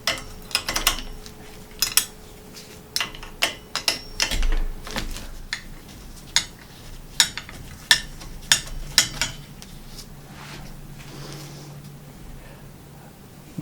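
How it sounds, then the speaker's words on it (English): A narrow wrench works loose a stiff pedal on a 1969 Schwinn bicycle, giving a series of sharp metallic clicks and taps at an uneven rhythm, close and fairly loud, with no talk. "This requires a very narrow wrench to fit in."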